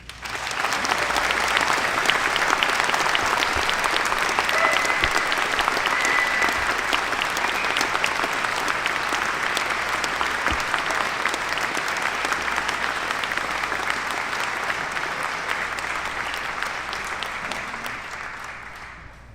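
Sustained applause from a large audience at a speaking event in Whitby, welcoming commentator Rex Murphy, steady dense clapping lasting the full stretch before tapering off at the end.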